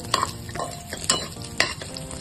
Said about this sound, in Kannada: ಡ್ರೈ ಫ್ರೂಟ್ಸ್ ಕಾಳುಗಳನ್ನೆಲ್ಲ ಮಿಕ್ಸ್ ಹಾಕ್ತಾ ಇದ್ದೀನಿ. ಚೆನ್ನಾಗಿ ಫ್ರೈ ಮಾಡ್ಕೊತಾ ಇದ್ದೀನಿ.